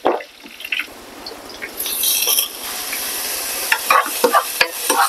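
Onion sweating in a pan for pork binagoongan, with soft steady sizzling, scraping stir strokes and a few sharper clicks of a utensil against the pan, close up and without speech.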